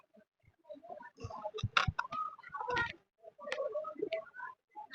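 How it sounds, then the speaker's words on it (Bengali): A baby native pigeon in a pigeon coop gives soft, irregular chirping peeps in short bursts, close and fairly quiet, with gaps of silence between them. "আর বেবিটা এখনো চিচি করছে"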